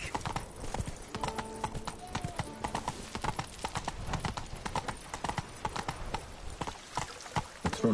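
A horse in The Witcher trots along with dense, rapid clip-clopping hooves, loud and close, keeping an even rhythm throughout with a brief tonal game sound in the background.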